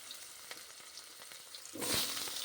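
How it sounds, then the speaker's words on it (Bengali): Oil sizzles quietly at first, then surges into a louder, bright crackling hiss as potatoes hit the pan after fish frying, steady sizzling continuing to the end. "মাছগুলো তো ভাজা হয়ে গেছে এখন এর মধ্যে ভাজা হবে আলু"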